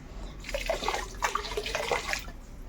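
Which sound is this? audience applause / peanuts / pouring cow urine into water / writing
pouring cow urine into water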